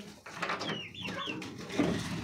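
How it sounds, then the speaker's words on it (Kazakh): Kuchinsky Jubilee chickens cluck and murmur close by, a short run of soft, throaty calls with one brief rising note in the middle. "Мына жақта тауықтар міне."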